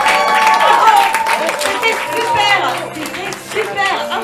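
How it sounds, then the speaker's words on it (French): An audience at an improv comedy show claps and applauds, a dense patter of hands under a loud excited voice that talks over the whole stretch. "Moi j'applaudis le public"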